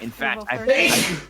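A person sneezes sharply once, a brief burst between bits of nearby conversational speech.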